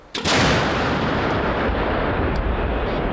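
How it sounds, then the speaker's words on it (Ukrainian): A single heavy artillery gun blast, sharp and loud, followed by a long rumbling roar that fills the rest of the clip. "Гармата! Постріл!"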